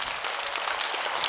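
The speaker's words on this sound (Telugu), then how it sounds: "ఒకసారి రెండు చేతులు పైకెత్తి మెడిటేషన్కి గట్టిగా చప్పట్లు కొడదాం." A roomful of people claps hard after a guided meditation, a dense, continuous patter of many hands throughout the short moment.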